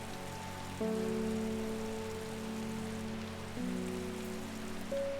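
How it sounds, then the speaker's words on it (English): Soft steady rain in the video game Strange Horticulture, a constant hiss of falling drops beneath sustained, shifting musical tones that stay louder than the rain throughout. "Is it because it's raining?"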